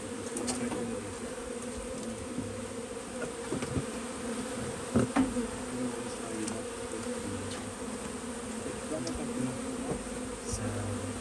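Honeybees carrying pollen swarm around newly installed hives at an apiary, and their steady, dense buzz fills the whole stretch without a break, close and even in loudness, with a brief louder knock midway.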